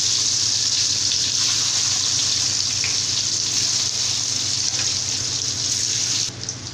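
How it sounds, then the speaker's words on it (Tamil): Halved eggs frying in hot oil in a pan: a steady, close hiss and crackle of sizzling that holds evenly throughout, dropping slightly at the very end. "இந்த மாதிரி முட்டையை நல்லா வந்து திருப்பி விட்டு ஆயிலில் நல்லா வந்து ஃப்ரை பண்ணிக்கலாம்"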